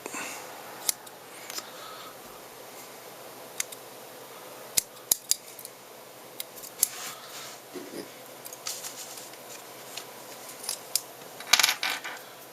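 Scissors snip foam for a fly's wing, giving a handful of sharp, isolated clicks spaced apart over quiet background hiss.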